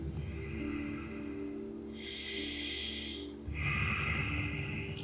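A person breathes slowly and deeply during a yoga session, a long airy inhale followed by a held breath and a breathy exhale, close and quiet against soft background hum.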